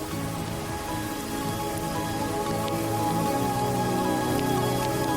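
Steady rain pours down across the Serengeti plains, a dense continuous patter on surfaces with a faint tonal layer of music beneath, no voices.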